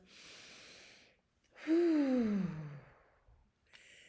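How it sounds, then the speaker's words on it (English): A single deep breath, drawn in and then let out as a long, loud sighing exhale, taken during a bedtime children's routine; it stands alone between quieter stretches of soft background sound. "take a deep breath"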